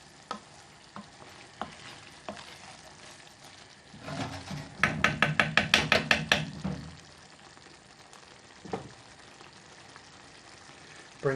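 Madras curry with lime being stirred in a pan, a run of rapid scraping strokes mid-clip over a soft sizzle, with a few isolated knocks before and after.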